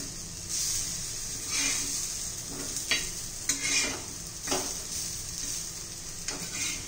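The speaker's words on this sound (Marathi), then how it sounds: "छान असे खरपूस होईपर्यंत आपण भाजून घेणार आहोत." Bottle gourd slices pan-frying in oil over low gas, a steady close sizzle with several louder crackling bursts as pieces are turned in the pan.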